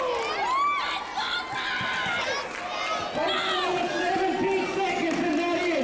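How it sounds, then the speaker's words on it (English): A wrestling crowd at an amateur match cheers wildly, loud and sustained, with high shrieks and whistles rising over a dense roar of voices for the whole stretch. "Crowd going nuts."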